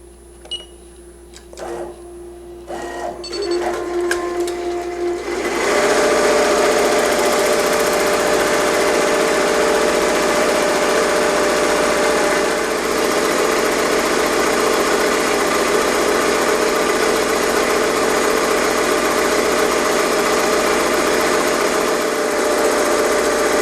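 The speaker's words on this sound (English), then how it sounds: "It's going to start stitching the satin stitch around the word Fury." An embroidery machine sews a satin stitch around lettering on a flock rip-away appliqué, ramping up after a few start-up clicks into a loud, steady, rapid mechanical whir that holds without pause, with no voices.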